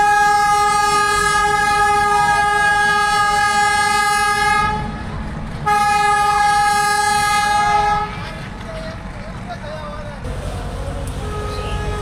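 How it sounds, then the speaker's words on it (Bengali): A Narayanganj commuter train's engine sounds two long, loud horn blasts during shunting at Narayanganj station, over a low rumble of the locomotive and background voices. "নারায়ণগঞ্জ কমিউটার ট্রেন নারায়ণগঞ্জে পৌঁছানোর পর ইঞ্জিন শান্টিং করে আবারও ছুটে চলে ঢাকার উদ্দেশ্যে।"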